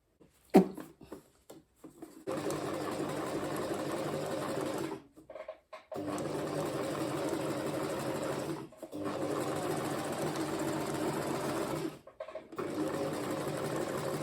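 A sewing machine stitches a straight line through fabric, running in long steady whirring stretches broken by brief pauses, close and fairly loud with no voices.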